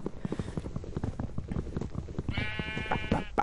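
Sheep in the game Minecraft bleat in a short wavering cry over quick rhythmic clicking footsteps and game sounds.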